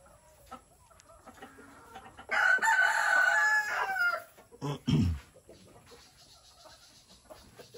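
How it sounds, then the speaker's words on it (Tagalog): A rooster crows loudly a couple of times among clucking hens in a farmyard, standing out over a quiet background with faint scattered noises. "Meron manok. Meron din manok."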